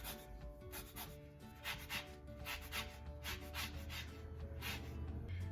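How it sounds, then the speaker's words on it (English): Lemon and lime being zested on a grater for a lemon-lime pound cake, a steady run of close, rhythmic rasping strokes over the whole stretch with no talk. "I'm going to zest a lemon and a lime into here"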